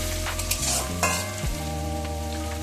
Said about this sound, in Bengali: তেলের মধ্যে সামান্য পাঁচ ফোড়ন একটা বড় সাইজের পেঁয়াজ কুচি করে দিয়ে দিলাম